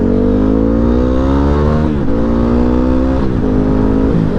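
A dual sport motorcycle engine running after a rough start, a loud, steady close-up drone that rises gradually in pitch with brief throttle blips.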